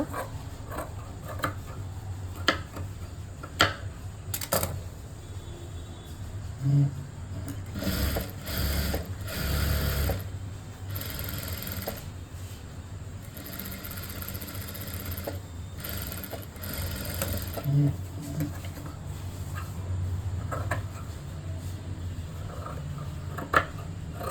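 A sewing machine stitching a blouse side seam runs in several short whirring bursts between pauses, with scattered mechanical clicks and ticks, close-up and alone.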